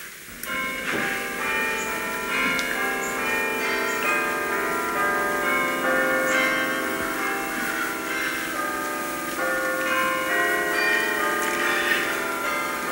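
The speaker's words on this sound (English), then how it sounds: "The bells." Church bells ring steadily with overlapping, lingering metallic tones, heard clearly from a nearby spot and sustained through the whole stretch without any voices.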